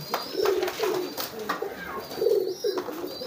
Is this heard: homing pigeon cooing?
yes